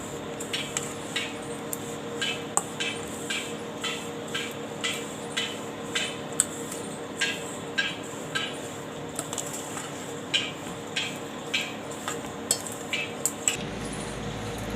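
Crumbled leftover roti churamu is mixed in a vessel, with rhythmic scraping and soft clinks of a spoon against the vessel repeating steadily at close range and no talking.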